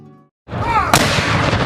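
Cannon and gunfire from a Civil War battle reenactment at Fort Fisher, a loud sharp blast followed by a sustained rolling roar of gunfire, with a quick tonal snippet before it.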